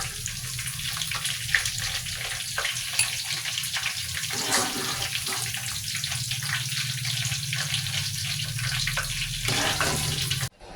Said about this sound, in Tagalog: hinugasan ko lang uli yung kawali